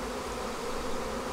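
A constant close drone of honey bees rises from hives packed full of workers, even and unbroken across the short stretch.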